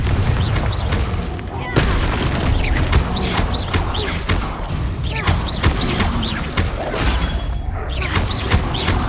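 Repeated Confringo fire-spell explosions in Hogwarts Legacy burst in quick succession, sharp booms and crackling blasts layered over a rumbling game soundscape.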